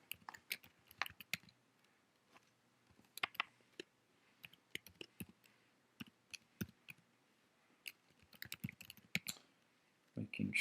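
Rapid bursts of typing on a computer keyboard, with quick irregular clicks broken by short pauses, close and fairly clear, ending in a heavier clatter.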